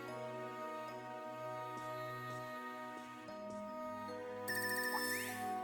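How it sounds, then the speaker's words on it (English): A phone ringtone plays in the video game Trails of Cold Steel III, a looping electronic melody with sustained tones that brightens partway through, steady and clear with no talking. "Oh, getting a call. This ringtone. I haven't heard this before."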